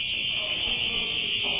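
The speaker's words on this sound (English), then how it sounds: "That is the sound of an alarm going off when Mark Harris opened a security door" At a government center, a fire alarm sounds with a loud, continuous high-pitched electronic tone that holds steady from start to finish, while low background noise sits beneath it.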